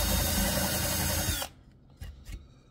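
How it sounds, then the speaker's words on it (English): A power drill whirs loudly for about a second and a half while countersinking holes in pallet wood for a shelf, then stops, followed by two brief knocks of wood. "I'm not going to countersink them a lot, just a little."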